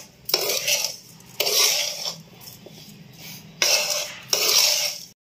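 Ravva laddu mixture being stirred with milk in a pan, heard as four scraping, rasping strokes of a utensil against the pan, each lasting about a second, with short pauses between them.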